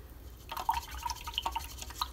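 Paint drips during a collaged index card project, a quick run of small, close, irregular droplet taps over about a second and a half.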